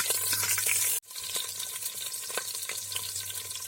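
Ginger and green chilli fry in a pan with a dense, close sizzle that drops out abruptly for a moment, then resumes as a slightly softer crackle with stirring.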